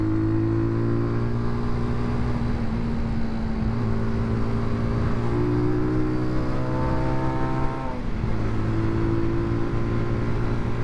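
Benelli Leoncino motorcycle engine running steadily close by, its tone rising and falling with a few throttle revs and a brief dip near the end, loud and continuous with no talking.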